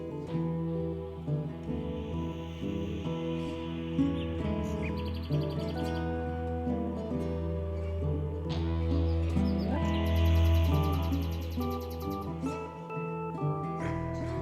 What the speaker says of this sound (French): Le chant de l'oiseau sans nom interpelle mes pensées.